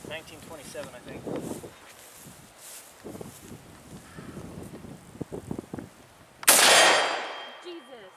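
A single very loud 1927 Mosin Nagant rifle shot cracks out close by at an outdoor range, its blast decaying over a second or more, after several seconds of people talking and shuffling.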